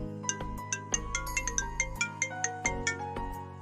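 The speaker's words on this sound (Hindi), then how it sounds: "तुम्हारा फोन आ रहा है, उठाओ।" A phone ringtone plays a bright, repeating electronic melody of quick plucked notes, clear and close, with no voices.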